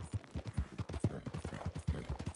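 Horse hooves clip-clopping in Red Dead Redemption 2, a steady rhythmic run of close, moderately loud hoofbeats on the ground, heard alone with no talking.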